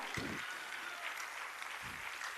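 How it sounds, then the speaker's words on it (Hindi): Continuous applause from the crowd at a state-level World Disability Day award ceremony, a steady distant wash of clapping with a couple of brief low thumps. "लगातार तालियों के साथ"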